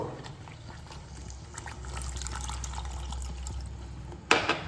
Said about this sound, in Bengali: এবার আমি সামান্য পরিমাণ জল দিয়ে দেব